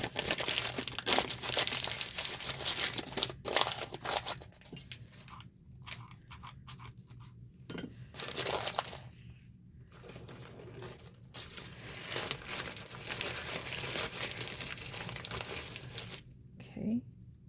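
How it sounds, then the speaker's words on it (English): Sheets of paper are scrunched and crinkled by hand while making an inexpensive Thanksgiving craft centerpiece, with close, repeated crackling bursts and brief pauses between them. "I'm just going to scrunch some paper down."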